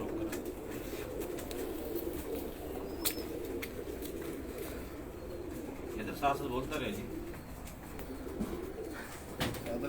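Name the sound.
pigeons cooing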